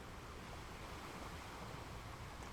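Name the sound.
ocean waves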